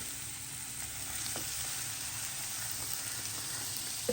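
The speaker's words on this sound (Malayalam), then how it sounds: "ഇതാ ഉള്ളി ഇട്ടുണ്ട്" Onions frying in oil for a karimeen pollichathu masala make a steady, even sizzle, close and continuous, with faint stirring and no talk over it.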